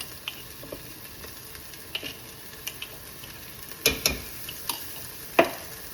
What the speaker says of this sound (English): Now that the onion has been sauteing for about 10 to 15 minutes and it is light golden